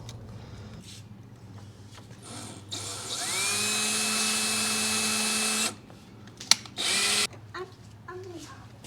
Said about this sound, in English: was hoping to do this without having to drill a hole.